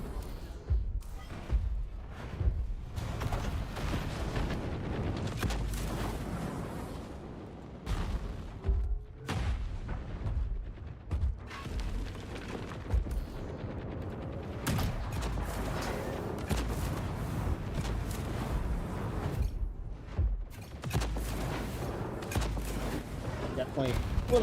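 Gunfire in the Highguard video game, with irregular bursts and single loud shots scattered through a long stretch of steady game rumble, while a person talks over the action.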